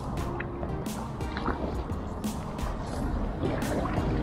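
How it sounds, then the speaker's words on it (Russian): A Big Fish Pack packraft is paddled along the Neva river in the city, with close, irregular splashes and drips of paddle strokes over a steady wash of water and wind. "Покрафт Big Fish Pack отлично идет."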